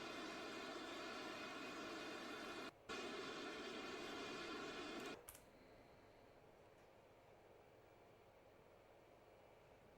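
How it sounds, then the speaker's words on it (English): An Airbus A380 taking off from Heathrow in England, a loud steady broadband engine roar that holds for about five seconds, briefly cuts out, then drops to a quieter, more distant rumble. "And A380 lifting out of Heathrow in England."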